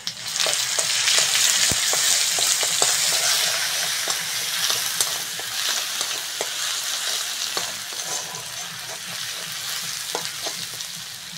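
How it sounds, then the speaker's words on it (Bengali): Garlic paste fries in hot oil in a kadai with dried chilli, bay leaf and five-spice, giving a loud, steady sizzle close by, with occasional stirring clicks and pops that ease slightly toward the end. "রসুনটা ভালো করে ভেজে নিয়েছি"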